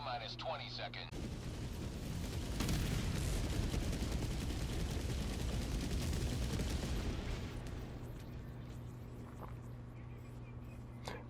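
The AR-23P Liberator Penetrator rifle in Helldivers 2 fires a sustained run of rapid automatic shots mixed with booming explosions, loud and dense for several seconds before easing into a quieter tail.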